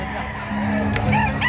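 A native rooster crows nearby over a low steady hum, with faint background voices and ambient farmyard noise.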